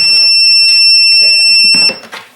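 A loud, continuous high-pitched electronic beep tone blares steadily from a Motomaster Eliminator 1400 amp jump starter booster pack, then cuts off, leaving faint clatter.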